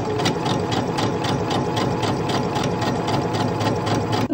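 A domestic sewing machine runs continuously with a patchwork presser foot, stitching a straight seam along a fabric edge in a fast, even, close-up mechanical whirr with a regular needle rhythm.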